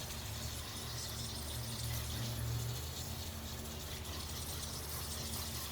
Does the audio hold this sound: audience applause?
no